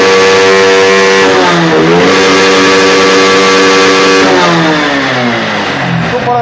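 A Honda motorcycle with its air filter removed revs loudly up close, the engine pitch swooping up and down in repeated throttle blips over a steady running drone; no speech.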